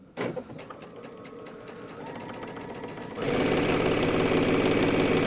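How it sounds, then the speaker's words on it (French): A sewing machine stitches jelly roll fabric strips placed right sides together for a rug, first running in fast rhythmic bursts and then settling into a louder, continuous whir close by. "je vais commencer à coudre dans ce coin-là et je descends jusqu'au coin opposé"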